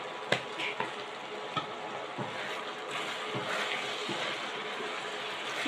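Spice paste with chili and turmeric powder frying in a pan for a Ramadan home-cooked dish, giving a steady broad sizzle with a few sharp stirring clicks early on, fairly close and with no talk.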